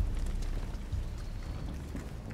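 Steady rainfall in the video game Detroit: Become Human, a dense continuous patter and wash of drops filling the scene evenly, loud and close, with no voices.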